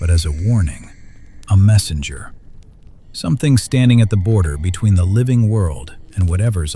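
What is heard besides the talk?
No everyday noise stands out behind the speech.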